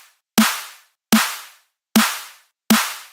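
A synthesized drum sound made in Bitwig without a dispersion effect strikes four times at an even pace. Each hit is a sharp, punchy transient with a low thump that fades quickly, with silence between the hits.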